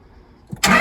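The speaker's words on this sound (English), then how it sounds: "Didn't like the sound of the diesel." A diesel truck engine with warmed glow plugs turns over: a quiet, faint murmur, a brief cranking thump, then the engine catches and roars loudly to life.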